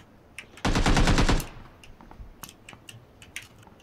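Gunfire in a shooter video game: one loud rapid automatic burst of just under a second, followed by quieter scattered clicks and distant shots.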